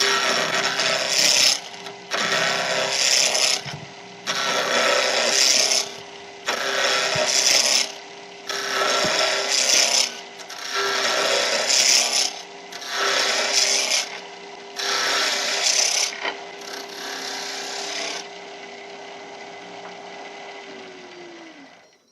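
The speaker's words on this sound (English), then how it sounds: "turning it to round with my roughing gouge, working about 2000 RPM" Roughing gouge on a wood lathe spinning near 2000 RPM, turning a keyring blank to round in repeated scraping passes with brief pauses between, over a steady motor hum that winds down at the end.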